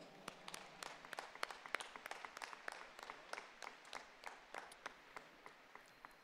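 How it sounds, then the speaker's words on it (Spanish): Applause from the congregation at a Catholic Eucharist celebration, a faint, distant patter of many hands clapping steadily for several seconds in a large reverberant space. "pero muy fuerte aplauso."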